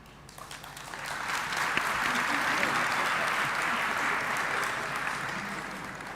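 An audience at a university academic opening address breaks into applause, swelling quickly into sustained clapping that holds steady for several seconds before easing slightly, heard from within a large hall.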